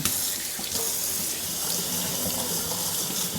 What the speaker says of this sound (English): For the kale, I want to give it a thorough washing.